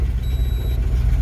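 An old Ford Model T engine idles in a steady, loud low rumble with no other sounds or voices, accompanied by a faint continuous high whine.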